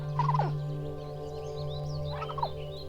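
Two birds call back and forth in a film scene, with two short gobbling bursts about two seconds apart over a steady droning background.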